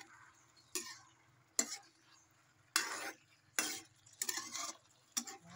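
Pork blood stir-fried with holy basil in a pan: six quiet, separate spatula strokes scraping and tossing, each a short rasping burst, over a low background hum.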